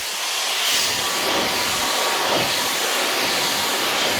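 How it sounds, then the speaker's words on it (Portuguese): A hair dryer blows hair dry with a steady, loud, close whoosh of hissing air that holds even throughout. "Agora vamos secar meu cabelo."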